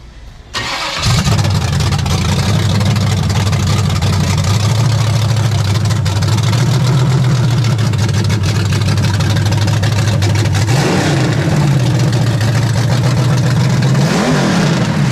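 A Chevy 350 V8 in a 1974 Chevy Nova fires up on its first startup after an engine swap, then runs loud and close at a rough, lumpy idle with a couple of short throttle blips near the end.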